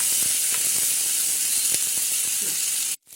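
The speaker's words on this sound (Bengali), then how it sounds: "হালকা আছে এটা ধীরে ধীরে ভেজে নিন" Hilsa fish with green chilli paste fries slowly in a pan, giving a continuous loud hiss and sizzle with a few faint clicks, then cutting off abruptly near the end.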